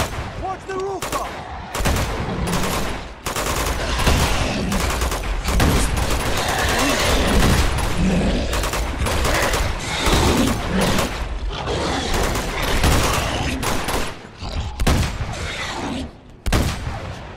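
Heavy gunfire in the action game Uncharted 2: Among Thieves, dense bursts of automatic weapons and shots crackling almost nonstop, loud and close, with voices shouting briefly in the midst.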